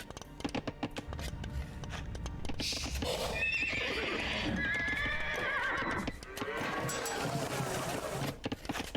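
Scout cavalry horses in the Age of Empires 2 video game whinny loudly over a steady patter of hooves and busy game ambience, with the neighs dominating the middle of the clip.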